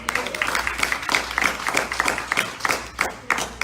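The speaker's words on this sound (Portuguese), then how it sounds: "Quem pode aplaudir ao Senhor por isso?" A church congregation applauds with loud, uneven clapping that comes in rhythmic bursts, close by and lively, with a low steady hum underneath.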